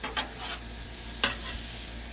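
Pork sizzles on a Blackstone griddle in a quiet, steady hiss, broken by two or three brief bursts of louder spitting and scraping as the meat is stirred.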